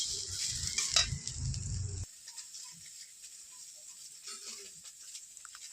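Note greens (amaranth leaves) and potatoes frying in a pan with turmeric and chili powder, a loud sizzling stir for about two seconds, then only faint scattered pan clinks and crackles.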